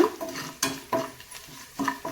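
A utensil stirs and scrapes around a pan in several uneven strokes, mixing seasoning in a tempering, with soft clinks and a light sizzle underneath, close and fairly quiet.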